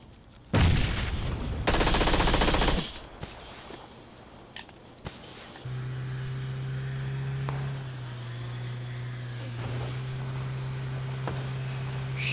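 Gunfire in the PUBG video game on the snowy Vikendi map: a sharp shot, then long dense bursts of automatic fire, scattered single cracks, and a low steady vehicle engine hum running beneath later shots, all loud and close.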